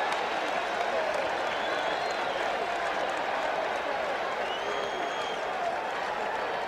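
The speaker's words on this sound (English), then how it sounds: "Amidst the roar of the crowd" A large crowd roars and applauds continuously at a baseball stadium during Game 6 of the World Series between the Boston Red Sox and New York Mets, a dense, steady wall of cheering.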